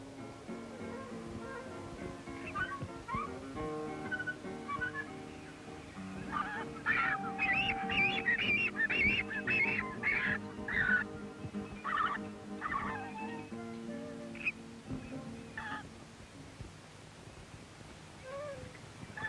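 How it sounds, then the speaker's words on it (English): A colony of frigate birds calls at some distance, a busy overlapping chorus of harsh, honking cries that peaks in the middle of the stretch over a steady background murmur. "Some distance away is a colony of frigate birds."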